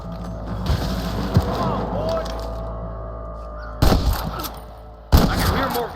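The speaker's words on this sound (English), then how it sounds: "I can hear more gunshots." Bursts of gunfire in Red Dead Redemption crack out in quick volleys, loud and close, with brief gaps between clusters of shots.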